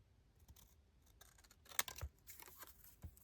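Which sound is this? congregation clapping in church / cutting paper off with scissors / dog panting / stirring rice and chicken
cutting paper off with scissors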